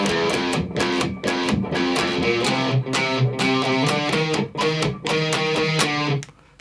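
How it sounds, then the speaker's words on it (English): An electric guitar plays the bass line of a song as a steady, punchy picked riff with repeated low notes and ringing chords, up close with no talking. "But I thought I'd write the bass part out on guitar because it sounds cool."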